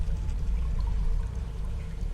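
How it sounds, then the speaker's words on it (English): Water drains out with a continuous low gurgling, pouring rush that stays close and fairly loud throughout, with no talking over it. "Maybe the water's starting to drain out there."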